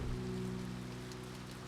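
Rain falls in the video game Finding Paradise as a steady, soft, even hiss over a low hum, continuous and unbroken with no voices.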